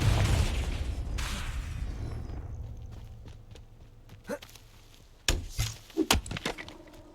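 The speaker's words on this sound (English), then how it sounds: "Confringo!" Confringo fire spell bursts in Hogwarts Legacy, a series of sharp, loud blasts and crackling impacts toward the end of the clip, following a rumbling, fading explosion at the start, with no talk.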